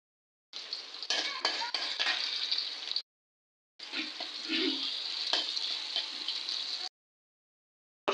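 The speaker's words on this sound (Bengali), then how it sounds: "এখন পেঁয়াজগুলো ভেজে নিব।" Onions frying in oil left from the fish, crackling sizzle in two stretches broken by short silences, with occasional stirring scrapes and clinks of a utensil against the pan.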